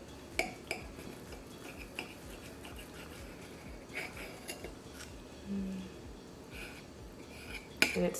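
A knife cuts into an air-fried steak topped with garlic herb butter on a plate, giving soft scraping strokes and a few sharp clinks of metal on the plate, quiet and close, with no talk.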